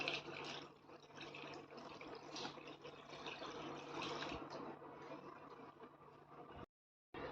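Water poured from a jug into a large bowl while making traditional homemade ghee from milk cream, a steady splashing, trickling flow heard close up for most of the stretch before a brief cut to silence near the end.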